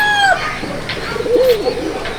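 Ghiya patti Madrasi pigeons in an old-line pigeon loft coo in soft, rolling bursts, close by, with a brief whistling call at the start and no talking.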